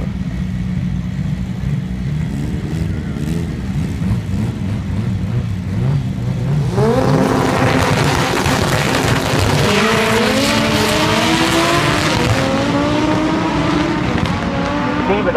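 Two drag racing cars launch side by side at a Honda-focused event, engines roaring loud and close, with revving climbing into a dense, sustained rush after about seven seconds and rising whine streaks as they accelerate.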